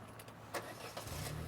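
Quiet start-up of a car's 2-litre turbo engine: a couple of brief bursts as it cranks and catches, then a low steady idle settles in, distant and faint.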